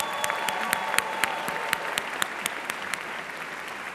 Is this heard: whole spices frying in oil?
no